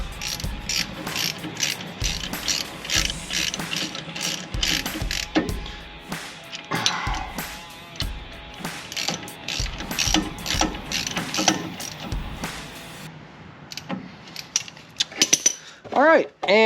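Rapid ratchet clicking while bolts are tightened on the rear disc brakes of a Chevy Silverado, sounding as repeated close bursts with metallic clatter and a few short pauses, and a voice speaking briefly near the end.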